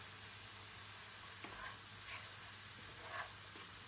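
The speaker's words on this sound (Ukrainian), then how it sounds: "закидаємо нарізану цибулю, моркву та часник, перемішуючи смажимо 7 хвилин" Soft, steady sizzling of chopped onion, carrot and garlic frying in oil, with faint occasional stirring scrapes; quiet and continuous with no voices.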